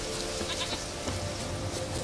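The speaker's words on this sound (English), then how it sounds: "Here, goat." Goat bleating in The Witcher 3, a hoofed, horned animal calling out in a few short wavering bleats over steady game ambience, fairly close and moderately loud.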